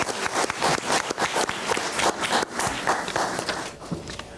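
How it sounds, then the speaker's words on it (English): Scattered clapping from an audience at a school board meeting. It sounds as a loose run of sharp claps at moderate level, with some uneven shuffling. "One more round of applause."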